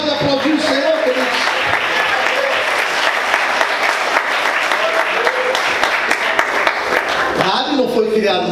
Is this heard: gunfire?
no